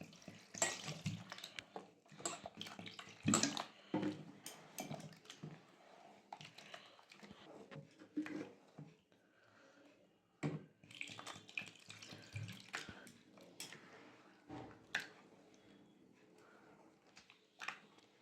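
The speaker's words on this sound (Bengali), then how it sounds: "দিয়ে দেবো জল" Water poured into ground rice and lentil batter for soru chakli pitha, a soft irregular splashing and sloshing that runs throughout at low level, with scattered clicks and knocks of the bowl.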